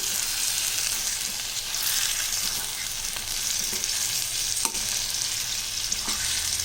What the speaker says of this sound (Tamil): இப்போ இந்த சிக்கன் பாருங்கள் நல்லா ரெண்டு நிமிஷத்துக்கு நம்ம நல்லா வதக்கி விட்டுருக்கோம்